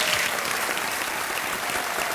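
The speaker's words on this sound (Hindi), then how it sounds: "एक बार तालियों के साथ अभिनंदन" A studio audience on a television quiz show claps in a dense, sustained wave of applause, loud and even from start to finish with no speech over it.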